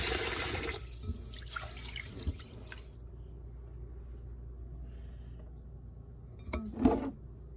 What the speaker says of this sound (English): Since you put 2 cups of rice, you're going to want to fill the water level to 2.